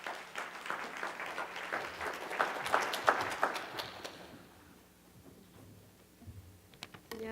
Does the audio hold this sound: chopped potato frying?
no